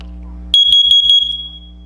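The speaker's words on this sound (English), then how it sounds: "press the test button displayed on the carbon monoxide detector. Hold it until you hear it beep." Honeywell carbon monoxide detector sounding a test alarm: four sharp, high-pitched beeps in quick succession over a low background hum, ending in a short fading tone.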